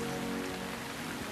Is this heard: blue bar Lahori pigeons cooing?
no